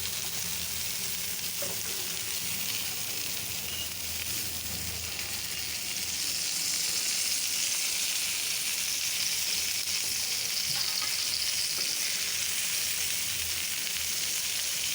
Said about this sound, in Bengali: বেগুনগুলো ভাজতেছি